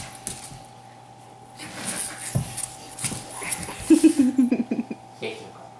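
An 8-week-old Mini Aussie puppy lets out a short run of high, thin whimpers and yips near the end, close by, with a person speaking softly and cooing around them.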